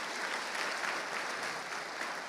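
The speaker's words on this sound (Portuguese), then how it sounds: "Quantos podem aplaudir a Deus pela vida do seu pastor?" Church congregation clapping continuously, a dense, even roar of many hands filling the room without pause and no voices standing out.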